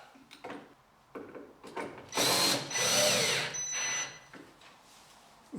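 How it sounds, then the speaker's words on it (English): A power drill bores pilot holes for bracket screws, giving a few short bursts followed by two louder, longer whines of drilling, close and alone. "Each bracket requires 3 screws, all of which need pilot drilling first."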